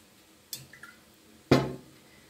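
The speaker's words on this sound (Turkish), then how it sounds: "Daha sonra 3 yemek kaşığı zeytinyağımı şöyle gezdiriyorum" Olive oil drizzled over seasoned potatoes in a kitchen, a few soft wet splats and drips close by, with one louder pour near the end, no talk.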